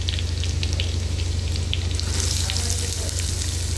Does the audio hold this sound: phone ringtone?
no